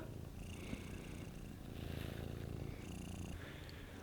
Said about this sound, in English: She doesn't stop purring.